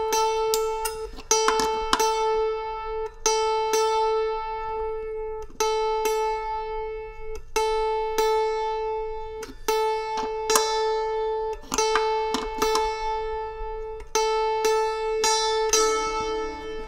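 Santoor strings struck repeatedly while being tuned to a single note, with three strings per course: bright metallic plucks in irregular clusters, ringing steady sustained pitches between strikes, close and clear with no talk.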